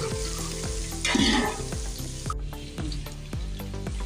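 Meat and onions fry with a spoonful of spice paste in a pot for duck pulao, a steady loud sizzle broken by regular scraping stirs, with a brief hissing burst as the paste goes in.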